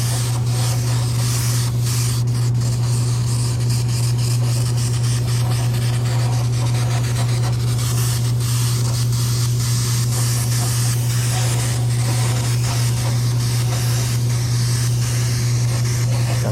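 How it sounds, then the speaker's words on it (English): Steady airbrush spray hissing continuously throughout as a matte white base coat goes onto a license plate, close and fairly loud, over a constant low compressor hum. "So again, matte finish that we're going to be spraying on. We're going to start off with a base coat of white."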